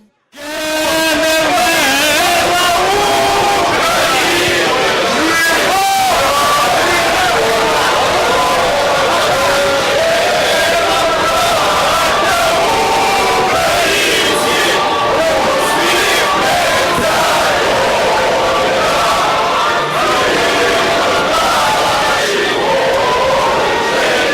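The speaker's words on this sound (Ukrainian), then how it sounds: "Із натовпу хтось влучив пляшкою прямісінько Олександру Корнійчуку в око" Loud, dense crowd commotion inside a regional council session hall in Rivne, with many voices shouting and clamouring continuously at close range throughout.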